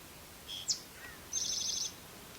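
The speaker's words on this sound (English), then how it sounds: "There's an interesting bird out there." A bird calls outdoors on a wooded hike up Mt Frissell in Connecticut, a short chirp followed by a faint trill. The calls are thin and distant over quiet background.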